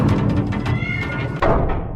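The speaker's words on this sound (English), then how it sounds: "It's the sound of your cat falling through your home's ductwork and into your furnace." A comedic sound effect of a cat tumbling through home ductwork into a furnace, with yowling meows and clattering metallic rumbles, ending in a sudden thump and a final crash, all close and fairly loud.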